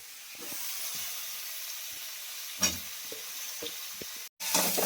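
Brinjal (eggplant) frying in a pan for a hilsa fish curry: a soft continuous sizzle with scattered crackles and light stirring scrapes, briefly cut to silence near the end before resuming.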